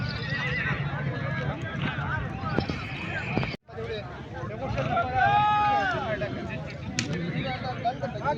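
Horses neigh and whinny repeatedly at an outdoor horse market fair in Dera Ghazi Khan, Pakistan, with hoof clip-clops under a steady crowd babble, sharp nearby calls rising and falling over the noise.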